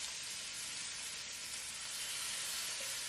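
Tomatoes hit a hot pot holding onions and garlic for a one-pot high-protein dish, giving a steady, close, bright sizzle that holds evenly for a few seconds with no talk.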